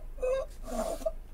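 A short, breathy vocal grunt-moan from a person, strained and quiet, imitating an exaggerated cartoon-fighter effort sound.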